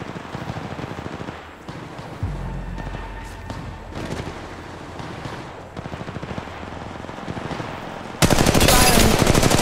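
Automatic gunfire in the mobile shooter Apex Legends Mobile, with bursts of rapid shots over game ambience and a loud sustained stream of fire near the end.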